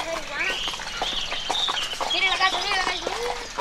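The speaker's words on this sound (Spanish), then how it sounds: "Y aquí voy yo, a caballo, otra vez en Latinoamérica" Horse being ridden in Latin America, with soft hoof clip-clops heard beneath continuous speech from the rider and some bird calls in the background.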